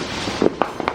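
Fireworks going off nearby outdoors at night: a few sharp cracking pops in quick succession, moderately loud, with no one talking.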